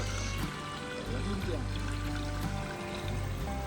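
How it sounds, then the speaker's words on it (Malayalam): Rice being rinsed by hand in a pot of water, washed two or three times during outdoor cooking of beef biryani, with continuous close sloshing and trickling water for the whole stretch, no talk over it. "നമ്മൾ അരി കഴുകണം, 2-3 വട്ടം കഴുകണം"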